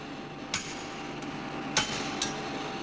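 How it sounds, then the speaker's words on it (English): A hammer strikes the overlapping white-hot ends of a metal piece being forge welded, a few sharp separate blows ringing out at close range with quiet gaps between them. "In this state, they join simply by being hammered together."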